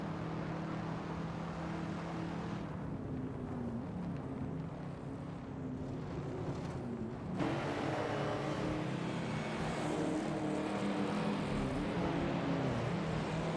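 Race cars in a Le Mans racing video game, a dense, steady engine drone that rises and thickens partway through, continuous and mid-level with no voices.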